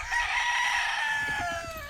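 A blue-legged rooster crows nearby, loud and drawn out, its call holding steady before trailing off in a slightly falling tail, heard alone on a cool, overcast day.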